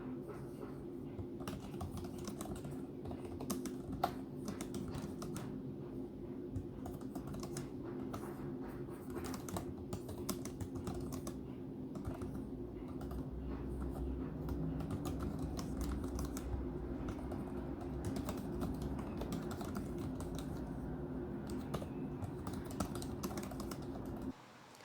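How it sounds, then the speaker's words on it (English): Rapid, fairly quiet keystrokes on the DERE T30 Pro tablet's keyboard, a continuous clatter of small clicks running throughout with no speech. "Sometimes the keystrokes are not registered, sometimes you're hitting a wrong key, and simply the typing experience is not good."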